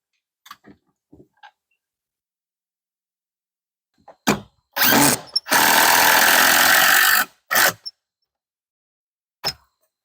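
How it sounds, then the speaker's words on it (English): Power drill driving screws into wooden deck stair stringers, a few light taps, then short revving bursts and one long steady whir of the drill near and loud, followed by a brief final burst. "We'll get the other two screws put in."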